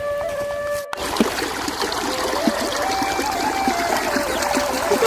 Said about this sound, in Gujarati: પેલા પ્રતાપસિંહ લ્યા જો પાણી વાળ્યું